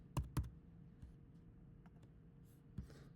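A few sharp, separate keystrokes on a computer keyboard, two quick taps close together and then a later single press, faint and close against a quiet background.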